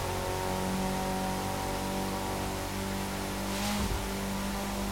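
A Mitsubishi sports car engine in the video game The Crew 2 revs steadily with a droning, harmonic whine, briefly dipping and surging near the end, loud and close with no talking.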